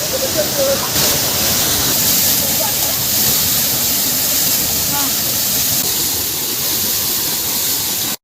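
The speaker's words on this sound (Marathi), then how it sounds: "धबधब्यात" Rushing water of a waterfall at Raigad fort during monsoon rain, a loud steady broadband roar that fills the whole clip with no break.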